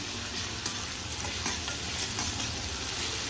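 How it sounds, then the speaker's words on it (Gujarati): Ginger, green chili and garlic paste sautés with green garlic in oil in a kadai, with continuous close sizzling and frying under repeated spoon stirring and scraping. "આ જે પેસ્ટ છે એને આપણે 1 મિનિટ માટે સાંતળી લઈશું"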